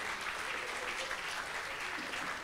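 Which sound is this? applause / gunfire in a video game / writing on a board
applause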